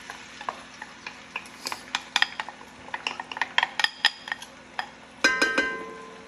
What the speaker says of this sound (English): All right, so we've got our oil heated up. We're gonna add our onions.